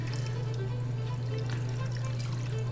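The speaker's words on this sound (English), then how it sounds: "Then I've got beef broth here." Beef broth poured into a pot of venison shanks with cooking wine, a quiet steady liquid stream splashing continuously under a low constant hum.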